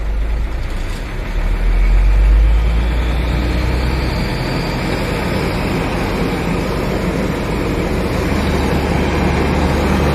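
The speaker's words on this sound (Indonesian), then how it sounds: "Kita naikkan RPM nya sampai tinggi." A Hino truck engine runs steadily and loudly nearby, a continuous heavy rumble at raised RPM with no voices over it.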